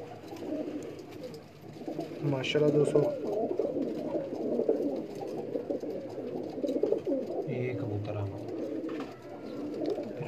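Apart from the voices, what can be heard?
pigeons cooing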